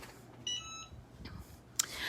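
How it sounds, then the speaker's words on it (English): A Cricut EasyPress heat press gives a short run of high electronic beeps signalling it is ready, fairly faint indoors, followed by a brief sharp click. "did you hear that beep? That means my Easy Press is ready to rock and roll"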